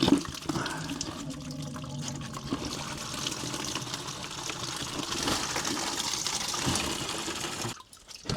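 Coolant pours and splashes out of a Porsche 996 during a water pump and thermostat change, a continuous close gush of liquid that stops abruptly near the end.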